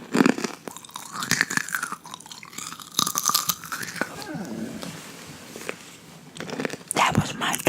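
A dog's bark cuts in among close crunching and chewing sounds, with some soft whispering nearby.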